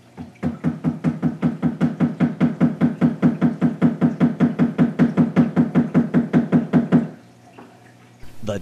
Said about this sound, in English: One holding the straight edge screwdriver, the other swinging the hammer in a relatively confined space.